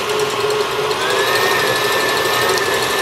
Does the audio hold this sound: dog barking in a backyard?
no